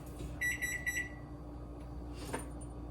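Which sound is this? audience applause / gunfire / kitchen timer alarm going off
kitchen timer alarm going off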